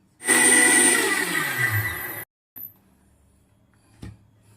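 A kitchen mixer grinder whirs loudly for about two seconds, grinding green chickpeas, garlic, chillies and curd, and its pitch shifts as it runs. It then cuts off, and a short burst and a faint clunk follow.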